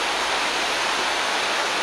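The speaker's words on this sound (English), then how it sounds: "That's the stream that runs past the house" A stream runs past a holiday home in Bruton, Somerset, its steady broadband rush of water loud and continuous with no voices over it.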